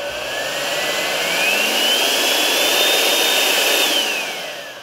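Dekton M21-TB01 battery dust blower with a brushed motor, its whine rising in pitch as the speed is raised, holding high, then dropping back; loud and close, with no talk.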